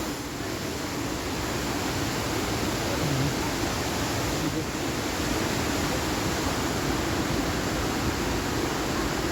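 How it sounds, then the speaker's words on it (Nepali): Roadside waterfall in Darjeeling pours in a constant broadband roar, dense and unbroken, close and steady throughout with no pauses. "देख्न सक्नुहुन्छ यो चाहिँ झरना हो, त्यहाँबाट जाँदैछ।"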